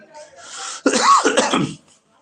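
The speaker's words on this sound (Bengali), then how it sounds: "একটু কাশি হয়েছে" A single harsh, close cough bursts out after a brief quiet breathy moment and then fades to silence.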